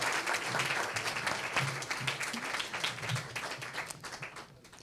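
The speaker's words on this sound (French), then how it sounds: "Oui, on peut les applaudir." Audience applause at an evening gathering in a hall, dense steady clapping from many hands that fades toward the end.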